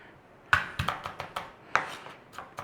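Garlic chopped with a knife on a board for a sausage and potato hash, about nine irregular sharp taps close by, some louder than others, in an otherwise quiet kitchen.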